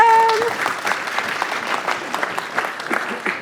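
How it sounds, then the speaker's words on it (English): Conference audience applauds a welcome, a burst of clapping that starts strong and gradually thins into scattered claps over a few seconds. "Give her a big round of applause for a welcome."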